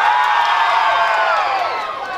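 A large crowd of supporters at the Miss Universo Paraíba pageant cheers and whoops loudly and continuously, a dense close roar of voices with shouting mixed in.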